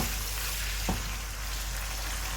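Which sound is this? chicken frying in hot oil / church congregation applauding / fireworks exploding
chicken frying in hot oil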